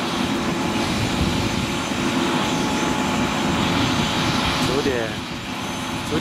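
A helicopter drones steadily near the Italian camp on Dhaulagiri, a continuous rotor and engine hum at moderate distance beneath a voiceover, dipping briefly near the end.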